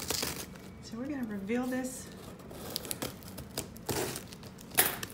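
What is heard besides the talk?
packaging crackling while unboxing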